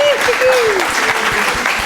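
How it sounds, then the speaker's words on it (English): Audience applause for a speaker after a surf nutrition talk, a loud, brief burst of crowd clapping with a voice briefly audible over it. "Everyone, let's give a hand of applause."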